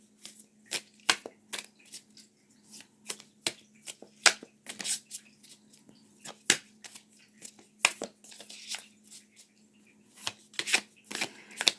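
A Spirit of Alchemy oracle card deck shuffled by hand in a quiet room, with irregular bursts of crisp riffling and slapping cards, sometimes clustered and sometimes spaced apart, over a faint steady hum.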